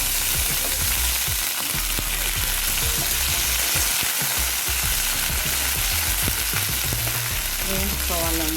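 Slit green chillies, seeds left in, fry in hot oil with a dense, continuous sizzle and crackle, close and steady for the whole stretch.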